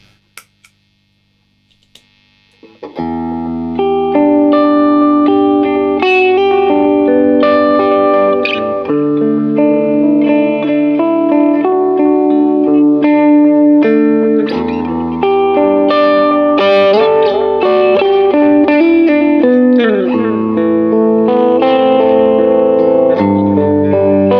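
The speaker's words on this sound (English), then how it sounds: "spark booster into the carbon copy, into the Corona, for kind of warm, cleanish tones that just have a whole lot of movement and a whole lot of dimension in them" Electric guitar run through a Spark booster, Carbon Copy delay and Corona chorus plays warm, clean-ish chords and notes with shimmering modulation and echo, loud and continuous after a short quiet start, no talk.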